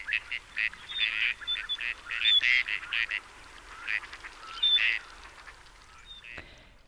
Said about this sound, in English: That's the gadwall.